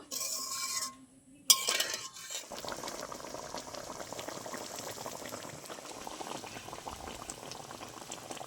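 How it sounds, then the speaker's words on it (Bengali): Thick egg korma gravy bubbling and boiling in a pan, a steady close simmer of popping bubbles that runs continuously after a brief clatter at the start. "ডিমের কোরমার গ্রেভিটা কতটা ঘন হয়ে গেছে, এই দেখুন ফুটে।"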